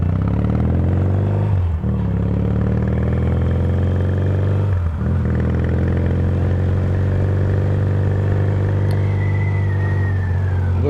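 A 1977 Yamaha XS650D motorcycle on a test ride, its engine droning loud and close with a strong, steady hum that rises as it accelerates, dipping briefly twice at gear changes.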